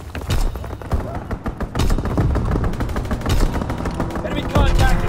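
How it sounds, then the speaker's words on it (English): Gunfire from an enemy aircraft strafing run in Call of Duty WW2, a heavy, rapid hammering of shots with thudding impacts, loud and continuous amid battle noise. "Enemy strafing run inbound."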